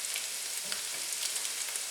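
Chickpeas frying with rosemary in a pan of hot oil, giving a steady soft crackling sizzle with no pauses, at low to moderate level.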